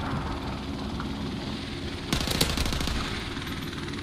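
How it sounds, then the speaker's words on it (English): Helicopter in the video game Modern Warfare Remastered: a steady, loud rotor and engine drone runs throughout, and midway a burst of rapid machine-gun fire breaks in over it, with no talk. "Oh, the helicopter."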